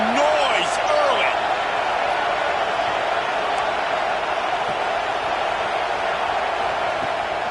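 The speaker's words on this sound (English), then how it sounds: "This crowd bringing the energy and noise early." Steady crowd roar fills a college basketball arena during a Arizona State at Michigan game, a dense continuous wash of voices with no distinct claps or bounces standing out.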